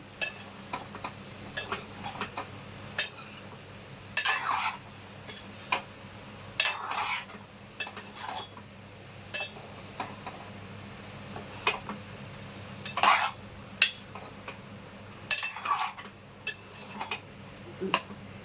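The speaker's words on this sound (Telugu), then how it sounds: "బీరకాయ ముక్కలు వేసేసుకొని ఇలా మొత్తం కలిపేసుకోవాలండి" Ridge gourd pieces stirred into hot tempering in a pan, a series of scraping ladle strokes and clinks against the metal over a low background sizzle, no voices.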